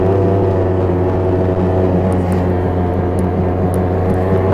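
An Arctic Cat Blast snowmobile engine drones loud and steady at close range, a constant low hum with even harmonics throughout, with no talk over it.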